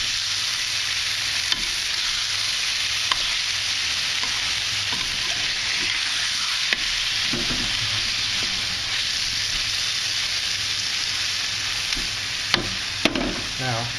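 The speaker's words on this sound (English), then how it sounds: "Sizzle to lock that flavor in." Meat sizzles steadily in a hot pan with garlic while stir-frying Thai pad see ew, a loud continuous hiss with occasional stirring scrapes and clacks from the utensil.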